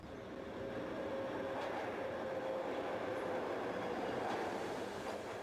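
A steel-wheeled TTC subway train in the OpenBVE train simulator runs into a tunnel, giving a steady, continuous rumble of rail noise with faint wheel squeal, even in level from start to end with no voices.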